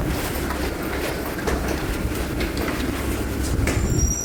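A Paris metro train pulls away from the platform, a loud steady rumble of wheels on rails with clattering and a rising squeal of wheels near the end, close by and with no talking.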